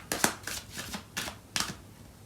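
Tarot cards are shuffled and drawn for a reading, in a series of crisp, close riffling snaps and slides arriving in separate bursts of about a third of a second each.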